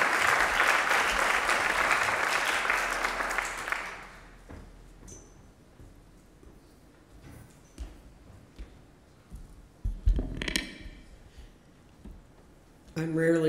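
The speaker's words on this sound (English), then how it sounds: "How about a round of applause for our great discussion today?" An audience applauds a panel discussion at a community college event, clapping dense and fairly loud for about four seconds before dying away, followed by scattered small knocks, rustles and a brief burst of voices in a quiet room.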